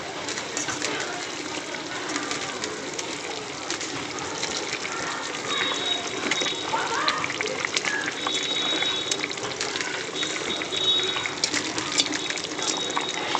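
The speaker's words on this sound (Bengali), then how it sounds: "আমার মাছের ঝাল কিন্তু ফুটে গেছে, আমি এবার ভেজে রাখা মাছগুলো একে একে দিয়ে দেবো।" Fish curry bubbling and simmering in a pan, a steady broadband hiss of boiling liquid running throughout at moderate level, with faint clinks and small splashes over it.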